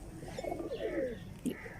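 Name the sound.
pigeon cooing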